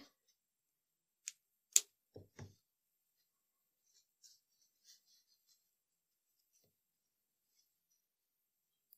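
Small scissors snip extra yarn from a hand-knitted baby sock, a few sharp close clicks and snips spaced out in near silence, then faint light handling noises.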